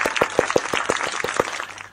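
Quick, evenly spaced hand claps, about six a second, ring out close and crisp over a light background murmur for two seconds.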